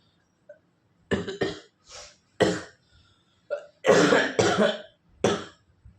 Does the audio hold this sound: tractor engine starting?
no